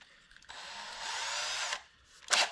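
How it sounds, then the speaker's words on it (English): A power drill with a 1/8 inch bit bores into the quarter panel of a 1965 Chevelle, one sustained high-pitched whirring burst of about a second, close and loud, ending with a short sharp clatter. "just take a 1/8 inch drill bit,"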